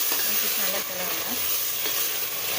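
Ground mint-coriander paste fries with ginger and onion in a pan, giving a steady close sizzle with intermittent scraping as it is stirred.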